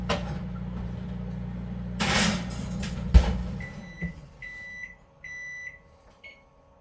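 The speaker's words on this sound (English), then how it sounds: "So I'm going to set my timer." In a kitchen, a rumbling appliance cuts off with a couple of thumps, then a timer gives a series of short, bright electronic beeps as it is set, spaced irregularly and close by.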